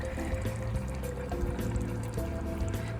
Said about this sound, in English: Nice little simmering bubbles, just what you want to see.